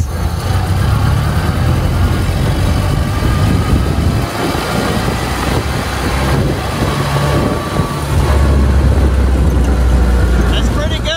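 A 1928 Ford Model A engine pulling hard in second gear under throttle, a steady loud rumbling drone with road and wind noise, heard from close by with a voice talking over it.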